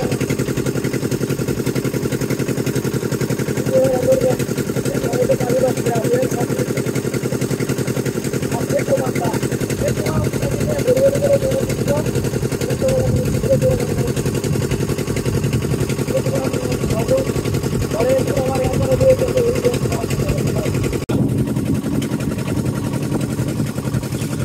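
A boat's motor drones steadily across choppy, wave-tossed water, a continuous mid-pitched engine hum with rougher bursts, while people talk over it throughout.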